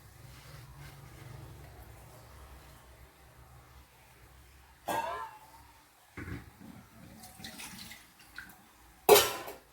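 Water is poured into a pressure cooker holding squid masala, with soft splashing and gurgling between a few sharp clanks of metal, fairly quiet and close.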